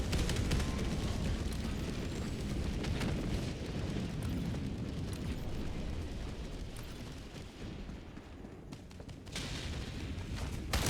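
A continuous, loud rumbling roar of an orbital strike in the video game Helldivers 2, with heavy blasts blending into sustained booming debris noise that dips briefly and then swells again.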